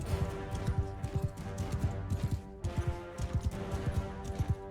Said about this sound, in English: I'm just going to charge right in on my horse